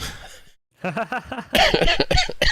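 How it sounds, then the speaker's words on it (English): A person coughs during an evening truck-simulator convoy session, a few harsh bursts following a short hush and then a louder, rougher burst near the end. "I think I'm going to cough again, so I might have to mute myself for a second."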